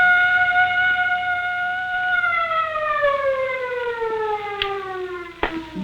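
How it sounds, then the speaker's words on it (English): A loud siren holds a steady multi-tone wail, then slowly winds down in pitch, with a couple of sharp knocks near the end. "Turn off the siren."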